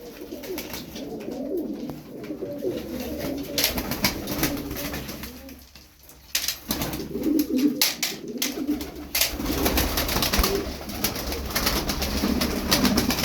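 Roller pigeons coo close by in soft, rolling calls that come and go, with wing flutters and clattering noises in between and a brief quiet stretch near the middle.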